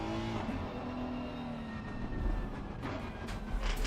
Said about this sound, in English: Let me know if you can hear the Yokoda 8641 car of Marcel Stange as they get off for the formation lap.